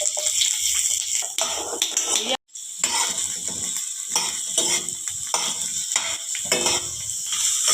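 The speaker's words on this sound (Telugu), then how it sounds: "ఆయిల్ వేడెక్కాక ఉల్లిగడ్డ ఫ్రై చేసుకోవాలండి" Onions fry in hot oil in a pan for an egg and mint masala curry, giving a steady sizzle broken by scraping stirs and clinks of a utensil against the pan.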